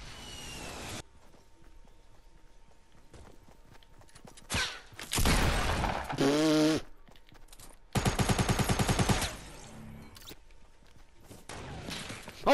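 Gunfire in Fortnite: sharp single shots and a loud, evenly spaced burst of rapid reports, separated by quieter stretches of footsteps and faint game sounds.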